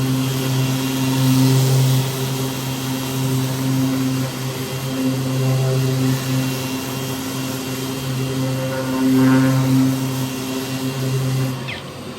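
A 3M Xtract sander runs with its dust extraction vacuum attached, a steady droning whir with a humming tone that swells and eases slightly, close and continuous throughout.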